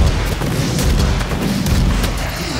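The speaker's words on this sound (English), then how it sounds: "I'm shooting a lot of things" Gunfire and explosions in the DOOM open beta shooter, a loud, unbroken wall of rumbling blasts and booms with overlapping shots and no pause, heavy and close throughout.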